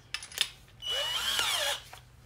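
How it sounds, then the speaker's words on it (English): Power drill fitted with a larger bit bevelling the edges of a hole in wood outdoors, a steady whining bore of about one second with rising pitch sweeps, preceded and followed by short handling knocks. "see if I got a little bit bigger drill bit in here so I can kind of bevel the edges there"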